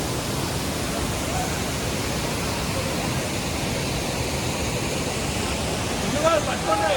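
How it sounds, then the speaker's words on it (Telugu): The Polluru waterfalls pour with a constant, dense roar of rushing water that stays close and steady for several seconds. "మనం పొల్లూరు వాటర్ ఫాల్స్కి అయితే వచ్చేస్తాం"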